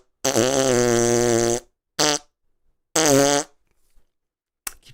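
A man imitates fart noises with his mouth: three loud, buzzy blasts, the first long and the others short, with gaps between them and a brief fourth start at the end.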